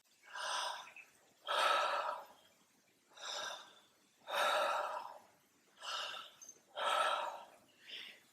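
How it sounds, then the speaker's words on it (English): Connected breathing through the mouth, inhaling and exhaling with no pause between: seven loud, breathy, rhythmic breaths about every 1.2 seconds, close and alone with no talk. "the method of breathing we're using is inhalation and exhalation through the mouth without any pause in between"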